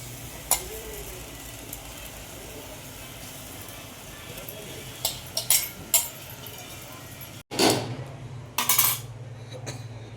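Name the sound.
rice being added and stirred in pot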